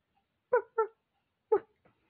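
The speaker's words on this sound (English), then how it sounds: "that's a perfect dog" A dog gives three short whimpering yips close by, two in quick succession and then one more after a pause, with a faint fourth whine trailing off in an otherwise silent room.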